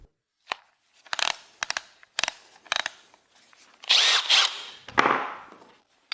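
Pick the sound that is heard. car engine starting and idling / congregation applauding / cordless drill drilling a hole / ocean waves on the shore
cordless drill drilling a hole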